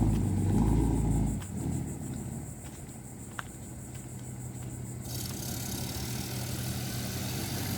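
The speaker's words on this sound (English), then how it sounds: "so we're still gonna hear the trucks, unfortunately" Truck engines idling and rumbling at a campground, a loud low rumble at first that drops to a steady distant drone, with a faint click in between.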